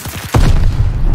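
A single loud pistol shot fires in a hardcore search and destroy video game match, a heavy booming crack with a dense lingering tail after a brief stretch of low rumbling.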